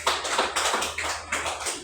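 A classroom of students clapping together in a lesson, several short bursts of applause in a rough rhythm, close and fairly loud, with no talking.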